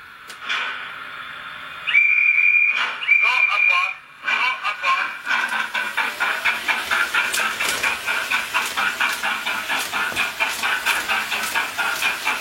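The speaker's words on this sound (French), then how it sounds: "On voit que la locomotive a fait sa boucle avec une meilleure fluidité." A digitally controlled model train locomotive runs through a reversing loop. It starts with sustained whistle blasts, then settles into a loud, close, evenly repeating chuffing rhythm.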